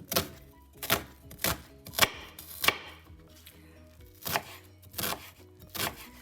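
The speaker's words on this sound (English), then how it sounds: "I decided to use two types of onions, the purple onions and the white onions. So I'm going to chop them nicely." A knife chops purple and white onions into tiny cubes on a board, with sharp, close, uneven strikes spaced out over several seconds.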